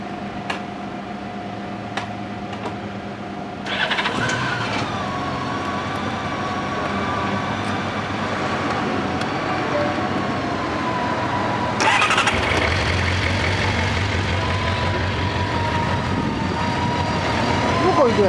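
A Honda Gold Wing motorcycle engine cranks and fires up, then settles into a steady, smooth idle nearby, with a brief rise in engine noise later on; people talk in the background.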